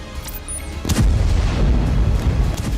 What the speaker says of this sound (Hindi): धमाके हो रहे हैं।